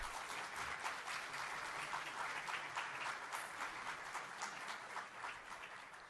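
A large audience at a Caritas diocesan convention applauds to welcome Cardinal Peter Turkson, a continuous, even wash of many hands clapping, heard from a distance and fairly faint.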